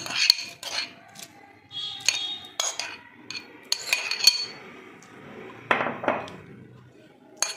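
Chopped onion, tomato and cucumber salad stirred in a bowl, a series of sharp spoon clinks and scrapes against the dish at irregular intervals, close and fairly quiet.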